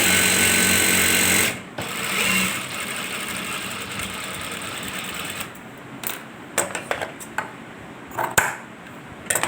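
Sewing machine stitching a seam on a men's shalwar, a steady close whir for the first stretch, then stopping, followed by scattered short bursts and clicks of handling, with no voices.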